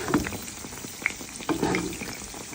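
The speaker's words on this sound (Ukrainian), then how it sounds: "І буду жарити на середньому вогні під закритою кришечкою." Pastries sizzle steadily in hot oil in a covered pan over medium heat, a soft, continuous crackle with occasional sharper pops, fairly quiet and close.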